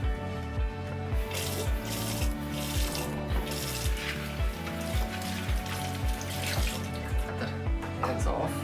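Asparagus spears are rinsed under a running kitchen tap, with steady flowing water and a repeated rhythmic rubbing and splashing as the stalks are turned in the stream, heard close and fairly quiet.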